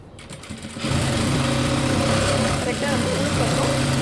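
A sewing machine top-stitching a blouse patti cloth starts up after a brief pause and runs in a fast, steady mechanical whir close by.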